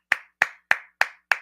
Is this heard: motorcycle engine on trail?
no